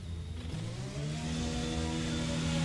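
A race car engine in a PC racing game drops to a steady pit-lane drone, the pitch settling into a sustained mid-range hum, close and continuous with no talk.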